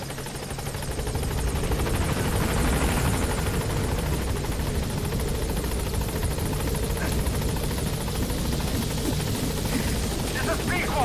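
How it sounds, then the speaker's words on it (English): Support helicopter in Metal Gear Solid V arriving at a landing zone near an outpost, a steady, loud rotor drone and engine whine holding throughout, with radio-style voices talking over it. "The chopper will be able to get in close now."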